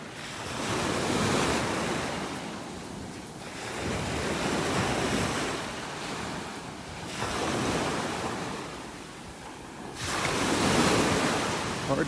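Surf breaks along a North Naples, Florida beach before sunrise, four or five loud rhythmic wave surges rising and fading, with gusts of wind rumbling across the microphone.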